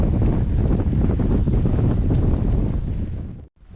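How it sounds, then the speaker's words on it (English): Strong wind buffeting the microphone beside a marina on the La Paz shore of the Sea of Cortez, a loud continuous roar that cuts off abruptly near the end. "It's windy. It gets windy here most days."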